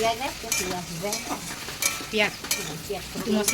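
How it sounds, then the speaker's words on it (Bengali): Taro stems are stirred as they fry, a loud close sizzle broken by repeated scraping strokes of a spatula against the pan in an uneven rhythm, with no talking. "দিদি ভালো করে লাঠি কচুগুলো করে ভালো করে নেড়ে চেড়ে নিচ্ছে"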